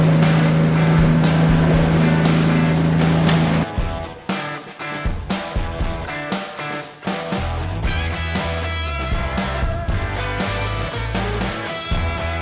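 A Stabicraft 1450 Explorer motorboat runs over open water, a loud outboard drone steady at first, then the hull slapping and splashing through waves in uneven bursts as the engine keeps pushing.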